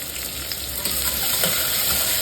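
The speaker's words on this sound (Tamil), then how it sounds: "கடுகெல்லாம் பொரிஞ்சதும் கட் பண்ணி வச்ச வெங்காயம், பச்சை மிளகாய், கருவேப்பிலை 3 சேர்த்துக்கிறேன்" Onions, green chilies and curry leaves frying in hot oil after mustard seeds have popped, for millet upma: a loud, close, continuous sizzle with faint crackles throughout, no voices.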